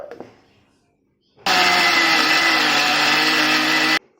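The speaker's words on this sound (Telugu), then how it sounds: "దీన్ని ఇప్పుడు మిక్సీ గ్రైండ్ చేస్తాను" A kitchen mixer grinder grinding peanut chutney starts abruptly after a quiet moment and runs as a loud, steady motor whine for about two and a half seconds before cutting off.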